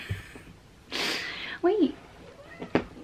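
A kitten gives one short, rising-then-falling meow in the middle, close by, with faint breathy snuffles and a soft sneeze-like puff around it while a person talks nearby.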